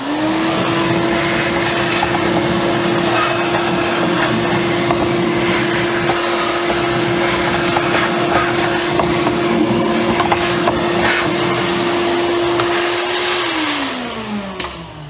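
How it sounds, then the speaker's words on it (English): A vacuum cleaner runs steadily and loudly, near and unbroken, as it sucks debris out of the air filter housing of a 2019 Honda Civic Sport 2.0L, with its whine dropping as the motor winds down at the end. "get a vacuum and just suck all this out of here"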